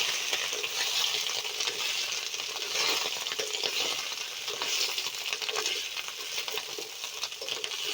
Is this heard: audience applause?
no